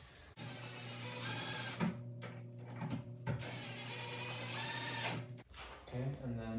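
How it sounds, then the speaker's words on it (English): A power drill runs in a long, steady whirring burst while tightening screws into an electrical box during wiring work, with people talking over the motor. "I'll give you the drill and you can tighten that down to the box"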